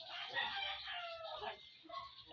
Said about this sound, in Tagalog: Yung isa kong manok guys, andito.